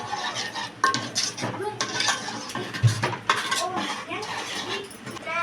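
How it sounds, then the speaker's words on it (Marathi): A spoon scrapes and clinks against a pan while stirring pav bhaji masala into a banana-based pav bhaji mixture, with irregular metallic taps and soft scrapes under a voice. "ते आता सगळं व्यवस्थित आपण मिक्स करून घ्यायचं आहे."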